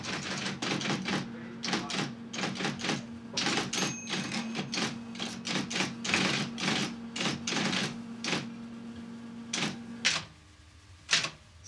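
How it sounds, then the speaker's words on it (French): Mechanical typing on a book-page printer machine, a dense run of sharp clacking strikes in irregular bursts with a faint steady hum underneath, close and fairly quiet, ending in a couple of isolated knocks with no speech. "L'aîné, Yermolay, tape les textes de son père sur une imprimante qui donne des pages analogues à celles d'un livre et sur lesquelles Solzhenitsyn"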